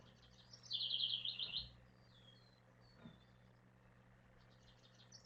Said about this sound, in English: the birds are louder than you guys are today